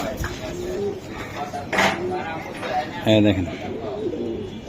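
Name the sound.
pigeons cooing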